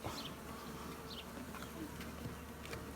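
A summer honey bee hive hums with a thick, continuous buzz, a busy colony close by, with a few brief higher chirps flickering over the steady drone.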